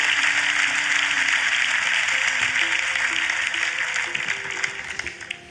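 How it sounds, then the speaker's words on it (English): At the 2018 MotoGP awards ceremony, a hall audience applauds the new British Talent Cup champion with a sustained, even roar of clapping over faint tonal music, tapering off slightly toward the end. "Let's give him a big round of applause, the new British Talent Cup champion."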